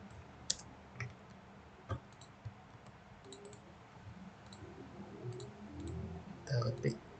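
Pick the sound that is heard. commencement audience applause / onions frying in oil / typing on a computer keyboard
typing on a computer keyboard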